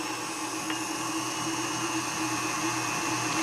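A stand mixer churns dough made with all-purpose flour, giving a steady, close motor whir with a constant hum that grows slightly louder toward the end.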